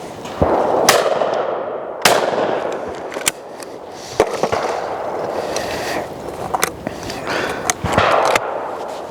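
A Lanber Sporter shotgun fires at clay targets outdoors, with several sharp loud blasts spaced a second or two apart, each ringing out briefly over background noise.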